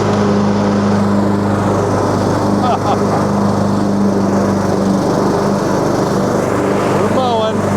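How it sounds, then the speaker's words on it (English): A riding lawn mower fitted with ATV tires runs with its blades engaged, its engine droning steadily and close throughout, with brief squeaky mechanical chirps and a voice talking over it. "let's engage our mower"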